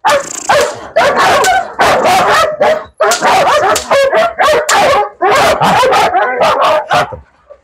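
A dog barks during obedience training, close and loud, in dense volleys of sharp barks broken by brief gaps, with yelps and a howling edge toward the end.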